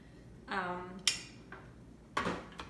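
A saute pan is handled on a kitchen stove, with a few distinct metallic clanks and knocks, moderately close, spaced across a couple of seconds with faint speech between them.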